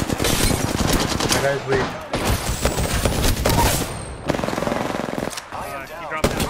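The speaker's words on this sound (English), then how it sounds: "The enemies are shooting at me." Enemy gunfire in a shooter video game rattles loudly and almost continuously, with sustained automatic bursts and heavy impacts, while a player talks over the fighting.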